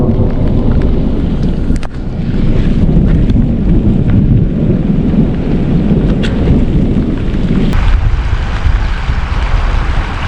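Heavy rain pours steadily on a campsite at Monson Lake State Park, Minnesota, while low distant thunder rumbles in the background, with a few sharp crackles, rolling and continuous.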